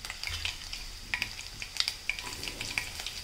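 Close, crackling sizzle of finely chopped garlic frying in hot oil, with small pops and a few light utensil scrapes against the pan.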